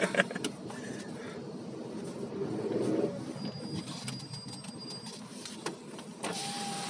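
A Skoda Roomster 1.2 petrol car fitted with a VGT system revs high in a low gear, giving a steady, sustained engine drone with slight swells, heard from inside the car.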